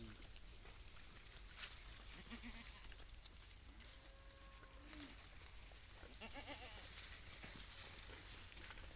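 Goats bleating on a goat farm in Jhunjhunu district, Rajasthan: several short bleats scattered over a steady, noisy outdoor background, with faint voices of people talking.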